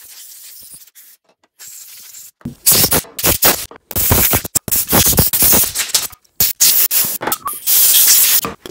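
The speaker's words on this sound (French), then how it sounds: "Tu viens nettoyer tout ceci convenablement à l'aide simplement de ton compresseur et de ta soufflette." Compressed air blow gun blasting dust out of an orbital sander, loud broadband hissing bursts of varying length with short gaps, starting after a quiet lead-in, no talking.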